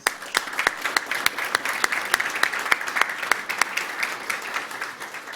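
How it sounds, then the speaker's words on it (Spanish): Sustained applause from a forum audience welcoming state representatives, many overlapping claps forming a steady, dense patter with sharp individual hand claps standing out near the front. "Un aplauso para ellos."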